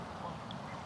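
Ducks quack in short nasal calls over a steady rushing background, fairly faint and blended into the ambient noise.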